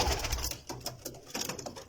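Faint, low cooing from young pigeons in a Samawah loft comes in a few soft, close pulses, with a steady background hiss around them.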